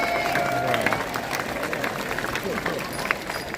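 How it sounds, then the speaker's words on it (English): Outdoor audience at a renaissance festival bird show claps for a performer, a steady spread of hands amid crowd murmur and background chatter, moderately loud throughout. "So let's give Nancy a big giant round of applause for that."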